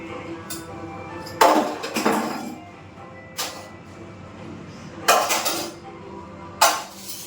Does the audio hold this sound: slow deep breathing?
no